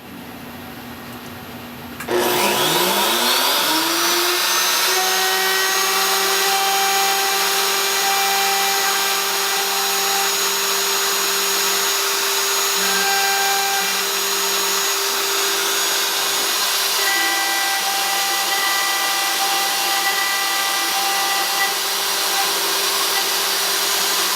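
A power tool spins up and runs steadily for over twenty seconds while cutting hinge pockets into the edge of a box, a loud, even high-pitched whine with slight shifts in pitch and no talk.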